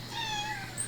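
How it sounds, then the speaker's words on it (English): A cat meows in a single drawn-out, rising and falling cry, close and fairly clear with no talking. "The cat screams in agony."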